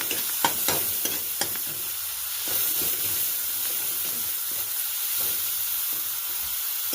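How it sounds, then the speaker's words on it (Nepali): Cumin, coriander powder, turmeric and chillies fry in hot oil for Nepali dal, giving a steady sizzle and hiss with sharp clicks of stirring and scraping near the start. "मसलाहरू राख्ने, जिरा धनिया पाउडर, हल्दी, खुर्सानीहरू सबै।"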